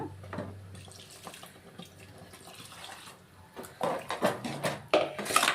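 Water from a mixer jar used to grind coconut is poured into a pot of sprouted cowpea gojju, giving soft splashes and trickles that grow louder and more splattery toward the end, with no talking.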